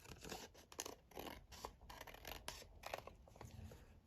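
Scissors trim Valentine's craft paper for a rose-lined heart pocket, making quick repeated close snips and paper rustles at a soft level with no talking.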